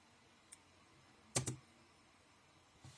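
Commands being typed on a computer keyboard, a quick cluster of close clicks around the middle with a couple of faint isolated taps before and after, no talking.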